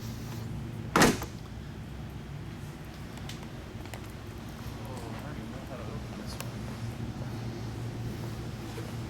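Car door on a 1946 Mercury Eight Coupe swung shut once with a single solid thump early on, set in a quiet museum room with low background hum and faint voices.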